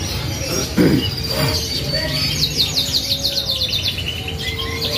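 Many small birds, including canaries, chirp and trill continuously at a bird market in Malang, rapid repeated tweets layered over a busy, crowded background.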